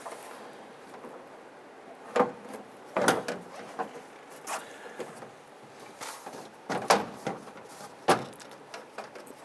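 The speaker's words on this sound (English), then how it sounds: "Push that panel up into place." A 1995-2001 Ford Explorer liftgate door panel is pushed up into place on the door shell, producing a series of quiet, sharp plastic clicks, knocks and rustles at irregular intervals, with no talk.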